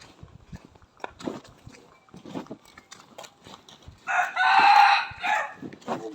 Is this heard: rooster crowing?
yes